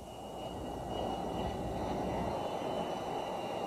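S-3 Viking naval anti-submarine jet of Sea Control Squadron 31 at Jacksonville air base, its engines giving a steady, broad, distant-sounding roar that holds level throughout without voices.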